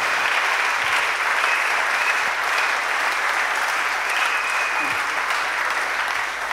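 A church congregation claps continuously at a Sunday service, a dense, even roar of applause filling the room at steady loudness throughout.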